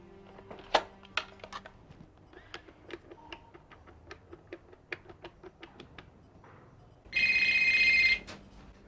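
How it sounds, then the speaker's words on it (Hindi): Telephone ring in a drama scene, a single loud, sustained electronic trill after a series of scattered clicks and taps, with no talking. "किसका फोन आ गया भाई?"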